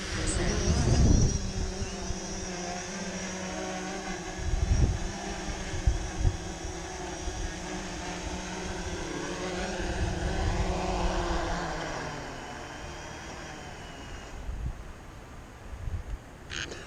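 Over a building construction site, a drone flies overhead, its steady motor whine rising and falling at moderate distance across the whole stretch, with occasional voices underneath.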